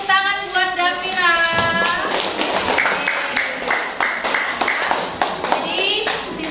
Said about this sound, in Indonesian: Kasih tepuk tangan buat Davina.